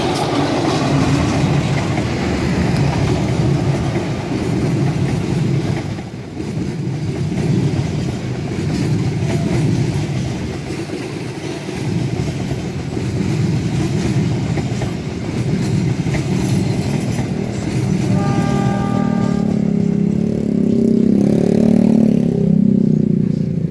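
A KRD Bandung Raya diesel commuter train, running from Bandung toward Cicalengka, passes close by with a loud, sustained rumble and rolling wheel noise. A brief horn-like tone sounds near the end as the engine roar swells.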